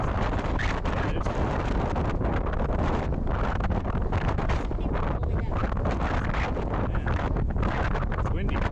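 Strong wind on a Mount Langley summit hike buffets the microphone nonstop, a loud, rough roar that fills the whole clip with gusty rustling.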